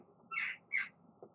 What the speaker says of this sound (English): the birds are goddamn noisy